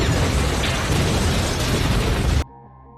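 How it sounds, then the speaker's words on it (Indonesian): A film explosion destroying an incubation facility: a loud, sustained roaring blast with dense low rumble that runs for over two seconds, then cuts off abruptly into quiet tonal background. "Eden kemudian meledakkan tempat inkubasi"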